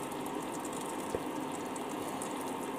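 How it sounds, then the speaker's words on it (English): Well water being poured over turkey meat in a cooking pot, a steady soft splashing and trickling that runs continuously and fairly quietly throughout. "I will put the water, I will cover the meat with the water"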